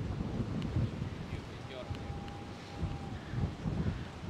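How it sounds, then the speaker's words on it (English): Gusty wind buffets the microphone at the seaside at Coney Island, New York, a steady low rumble with a faint tonal whine, while people talk intermittently. "Got a little windy out here."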